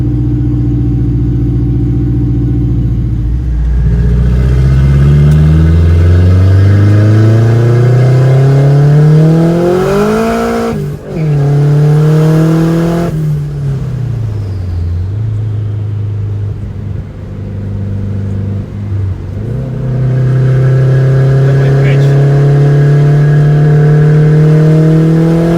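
A turbo K24-powered Acura CL, a car with a smoking engine, revs while driving, its loud engine note climbing and falling through several rising pulls and gear changes with brief lifts between.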